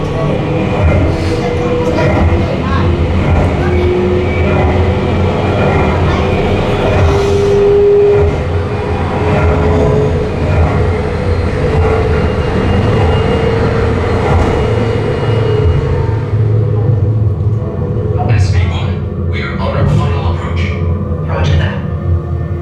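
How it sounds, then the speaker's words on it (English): Simulated space elevator ride in a themed restaurant, a steady loud rumbling hum like a train in motion throughout, with occasional tones and a voice speaking over it, easing to quieter clicks and thuds near the end. "the latest in space elevator design and technology"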